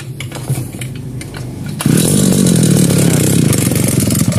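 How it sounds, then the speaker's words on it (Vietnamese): A Shindaiwa S25 brush cutter's small two-stroke engine is pulled over and catches, jumping from low clattering to a loud, steady, buzzing run close by. "Dòng máy nổ rất là giòn ha."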